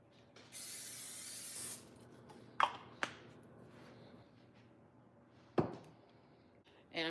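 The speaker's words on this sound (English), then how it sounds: "Vegetable oil spray in my pan." A short hissing burst of vegetable oil cooking spray into a pan, followed by a few sharp clicks and clacks from handling the can in a quiet room.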